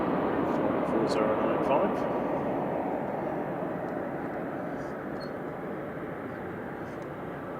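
A Ryanair jet arriving from Gdansk touches down at Manchester Airport at night, a broad steady roar of engine and airflow that is loud at first and slowly eases, with a person talking over it.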